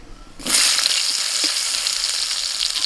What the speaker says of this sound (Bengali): এবার আমি সোয়াবিনটা ভেজে নেব।